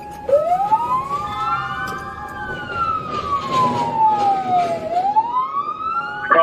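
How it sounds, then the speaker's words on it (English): A police car siren wails loudly and nearby during a chase, sweeping up and down in pitch over the low hum of a vehicle engine. "Go ahead and reactivate your lights and sirens there"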